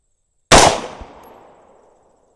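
A single loud rifle shot fired at close range while sighting close-range holds, a sharp crack with a long decaying echo trailing off over about two seconds, with no talking.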